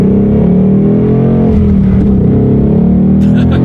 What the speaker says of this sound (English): I think it is time to do a quick little acceleration here in the 2019 Bullitt